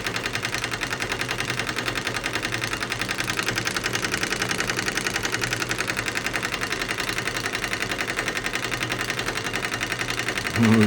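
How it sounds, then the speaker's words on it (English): A small live steam engine, running from a kit-style setup on a copper-clad boiler and not fixed to its proper base, chugs with a fast, even, smooth mechanical beat, steady and close throughout, no speech. "very smooth running engine though."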